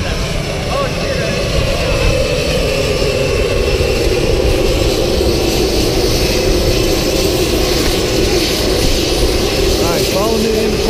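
A skydiving airplane's engine drones loudly and steadily while jumpers board for a climb to 14,000 feet, with a voice heard over the constant roar.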